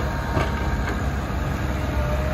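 Steady rumble of a shunting train moving slowly nearby, a continuous low mechanical drone with faint metallic clatter, no voices.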